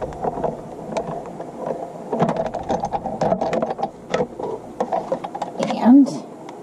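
A manual embossing machine cranks a floral embossing folder, sandwiched between a platform and an acrylic plate, through its rollers. It gives a steady, close mechanical rattle and grinding that lasts the whole stretch, ending with a brief squeak.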